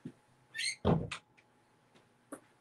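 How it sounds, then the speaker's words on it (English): A room door is closed with a soft click followed by a fuller thud of the door settling shut. Fainter knocks and handling noises follow in a quiet indoor space. "close my door"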